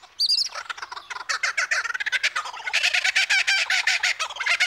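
Male superb lyrebird in Australian bush mimicking other birds, a loud, close stream of rapid varied chirps, whistles and trilling calls running almost without pause.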